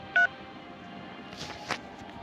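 A telephone keypad gives off a single short dialing tone, a clear brief beep near the start, followed by faint room noise and soft handling sounds.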